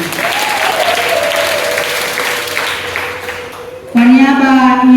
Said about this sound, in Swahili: Tumpigie Mungu makofi mengi.